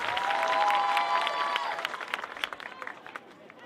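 Softball crowd at a Florida Vibe vs. New York Rise game, a broad sustained roar and cheering with some applause swelling early, then thinning into scattered claps and shouts as a batter comes up.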